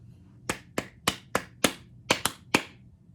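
Eight crisp hand claps from a single person in a music lesson, sounded close and clear in a rhythmic pattern with even spacing and a quicker pair near the end, against near silence.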